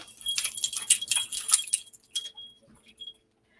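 Bright metallic jingling of a bunch of keys as a radio drama sound effect, shaken close and loud for about two seconds, then a few softer clinks fading into silence.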